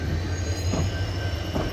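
A short local passenger train of about five coaches runs along the line toward Yashwanthpur Junction, giving a steady, loud rumble with some wheel squeal and no voices.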